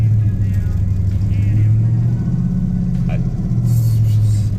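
Steady low rumble of a car engine while driving, loud and continuous throughout, with faint music and other noises layered over it.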